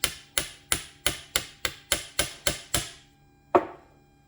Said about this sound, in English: Just give it a light tap with my little hammer.